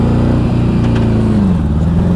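A 1984 Honda Goldwing motorcycle engine hums steadily while riding down a city street, a loud continuous mid-low drone with a slight pitch shift partway through as the revs change.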